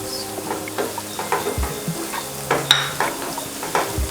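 Sliced shallots and curry leaves fry in hot oil in a pan, giving a loud, continuous sizzle broken by stirring scrapes and occasional light clinks of a utensil.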